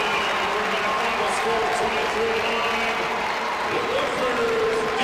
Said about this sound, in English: The Olympic champion, Gable Steveson, riling the crowd up.